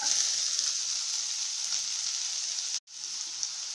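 Onions sizzle and crackle steadily in hot oil while making dry anchovy fry, a bright continuous hiss with a short break near the end.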